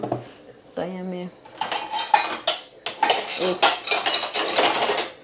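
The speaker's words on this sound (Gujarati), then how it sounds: "ચમચીથી થોડું મિક્સ કરી દઉં" A spoon stirs gram flour batter with green chillies and lemon juice in a bowl, scraping and clinking busily and close, with a brief spoken word early on.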